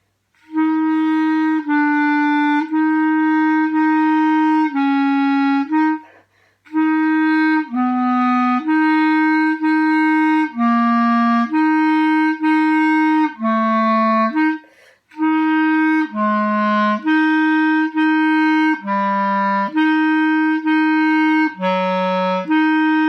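Solo clarinet plays a slow descending chromatic scale from F down to F, alternating a repeated reference note with notes that step gradually lower, each tone held and clear.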